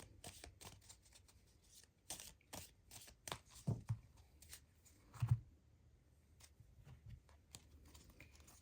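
Tarot cards shuffled and handled for a pick-a-card reading, a quiet run of soft flicks and riffles with a few louder card snaps, close and alone.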